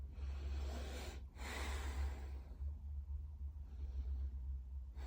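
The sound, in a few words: deep breathing through the nose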